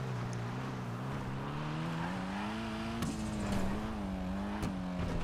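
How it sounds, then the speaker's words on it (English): A Dinka Blista Kanjo car engine in Grand Theft Auto Online drones and rises steadily under constant noise, with a whooshing turbo spool and brief sharp transients. "I do love that turbo sound when you put a turbo in this car."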